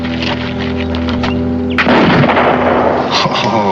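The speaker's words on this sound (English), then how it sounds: "A rifle like this, my brothers, is easy, it's quick to reload." A single loud rifle shot cracks out in a Western drama scene, a sharp broadband blast that cuts through steady background music and tails off into a rumbling echo, with no talking.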